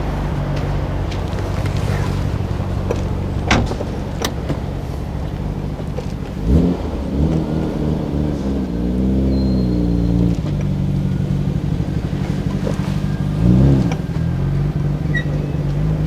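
A Nissan RB26DETT tuned engine breathing through an aftermarket muffler (brands like Mines, HKS, Reimax) with an electromagnetic exhaust valve, droning steadily at idle with a couple of brief blips of revving, loud and close.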